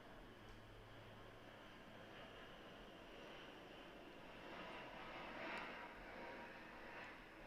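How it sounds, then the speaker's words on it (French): An airplane passes overhead as a faint, distant engine drone, swelling slightly toward the end over a quiet outdoor background. "il y a un avion qui passe là"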